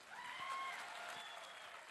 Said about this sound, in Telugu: పెద్ద ఎత్తున చప్పట్లు కొడదాం